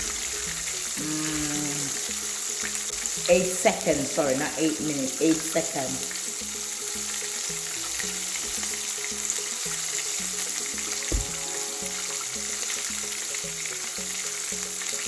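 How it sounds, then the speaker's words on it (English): Steady sizzling of cod fish frying in hot oil, continuous throughout, with a person talking briefly over it partway through. "this side's been frying"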